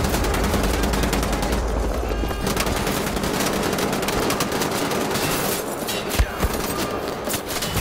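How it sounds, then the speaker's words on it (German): Relentless enemy gunfire comes from all sides in the video game Wolfenstein The Old Blood. Loud, dense rapid-fire bursts form a continuous barrage that eases slightly near the end, where a couple of sharper shots stand out. "Und sie schießen von allen Seiten."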